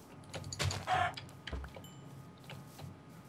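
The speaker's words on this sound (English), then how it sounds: "Chicken. There's chicken." Minecraft chicken clucking in short bursts, moderately close, with other faint game noises around it and no talk.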